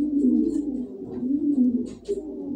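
A pigeon coos close by in a steady run of low, throaty rolling calls that rise and fall without a break, with no voices over them.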